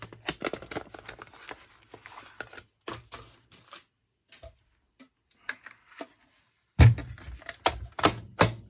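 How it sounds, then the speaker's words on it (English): A Stampin' Cut and Emboss die-cutting machine being hand-cranked to cut a paper die, with bursts of clicking ratchet ticks and plastic rattles, pauses between turns, then a louder grinding run at the end. "And a little cranky here, the Stampin' Cut and Emboss machine."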